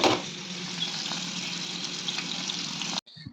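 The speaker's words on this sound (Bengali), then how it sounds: "আর এদিকে পনিরগুলোকে ফ্রাই করতেও বসিয়ে দিয়েছি।" Paneer pieces frying in a pan give a steady, close, crackling sizzle for about three seconds before it cuts off abruptly.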